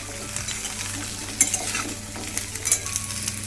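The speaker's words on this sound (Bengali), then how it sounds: "ডাটাটাকে আগে একটু ভেজে নিয়ে এবার সবজিগুলো একসঙ্গে দিয়ে দিলাম" Vegetables and stalks fry in hot oil with chilli, a steady sizzle with stirring and a few sharp metallic clinks of a utensil against the pan.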